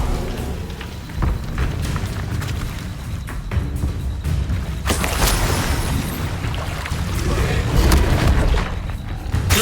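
A Bombarda spell explosion in the Hogwarts Legacy game, a sharp booming blast rising out of a steady rushing, rain-like ambient wash and leaving a long, rumbling tail.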